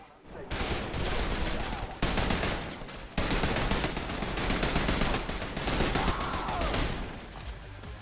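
Rapid suppressed gunfire in a video game crackles in dense, sustained bursts with brief gaps, loud and close throughout.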